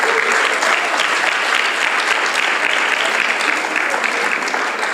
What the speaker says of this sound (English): A big round of applause once again for them.